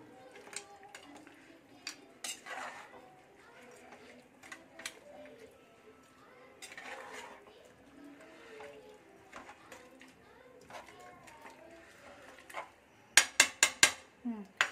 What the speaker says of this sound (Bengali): ওই জন্য এই যে ভালো করে একটু নাড়িয়ে নিই